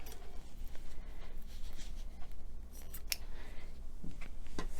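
Scissors snipping through chenille yarn fringe tails on a hand-knit chunky scarf, several quiet close cuts spaced irregularly, with faint handling rustle between them.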